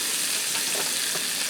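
Sliced onions and celery sautéing in a pan, a steady close sizzle with soft crackling and stirring, no talk.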